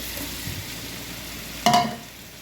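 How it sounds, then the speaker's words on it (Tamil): Biryani masala with coriander and ginger garlic paste fries in a pan. A faint sizzle runs throughout, and one sharp, close stirring scrape lands near the end, with no voices. "நல்லா ஒரு கிண்டுங்க. இஞ்சி பூண்டு பேஸ்ட்டு சேர்த்துருக்காங்க."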